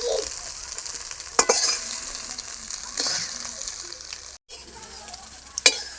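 Eggs frying lightly in a pan with oil for an egg potato chow mein, giving a soft steady sizzle with a few sharp clinks of stirring, close by and alone.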